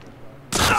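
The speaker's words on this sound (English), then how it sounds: "Oh, there's apparently an explosion." A sudden loud explosion bursts out of near silence in the post-apocalyptic shooter game Metro Exodus and then holds as a dense, roaring blast.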